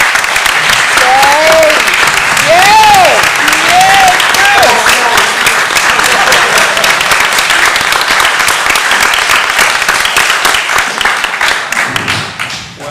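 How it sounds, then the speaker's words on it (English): Loud, sustained applause from the audience at a lake rescue association's annual meeting honoring a volunteer, with cheers and whoops rising early on, then steady clapping that thins toward the end. "I think we all need to give him a gigantic round of applause"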